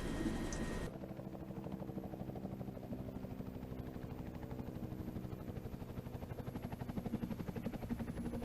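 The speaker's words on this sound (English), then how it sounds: "we'll just do a quick little flyby" An Army helicopter makes a flyby: a steady rhythmic rotor chop that holds close and even for several seconds, with no voices.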